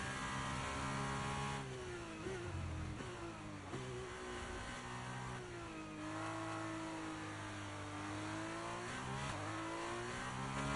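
An F2 race car from the F1 23 racing game drives a lap, its engine note rising and dropping steadily through gear changes with faint tyre squeal, loud and continuous with no talking.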